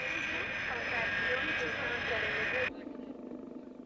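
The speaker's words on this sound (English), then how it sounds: "A yellow Boeing 707 freighter lumbers to a parking space on the tarmac." A yellow Boeing 707 freighter taxiing on the tarmac at Oakland International Airport gives off a loud, steady jet engine whine and roar. It cuts off abruptly near the end, leaving a quieter rumble.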